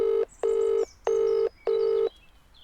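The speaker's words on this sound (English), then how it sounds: "I decide to ring Harumi." Telephone dialing, four evenly spaced electronic tones of equal length, clear and close, with short silences between them and nothing else.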